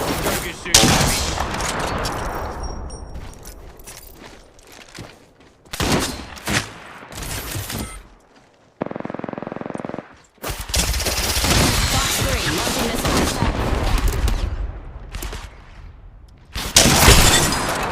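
Gunfire in the video game Apex Legends: bursts of rapid shots and loud bangs in clusters, with brief lulls between volleys, shield-charging sounds and a player's voice talking over parts of it.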